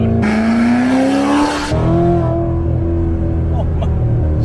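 A C7 Corvette Z06 engine revs hard with automatic rev matching, a loud close roar rising in pitch, dropping briefly, then settling into a steady, throaty idle-to-mid drone.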